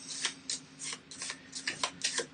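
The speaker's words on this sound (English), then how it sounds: "Take the top 2 cards from Easttown. Give it a shuffle." Arkham Horror playing cards shuffled by hand, a run of crisp, close riffling bursts in quick rhythm, fairly quiet, with no talking.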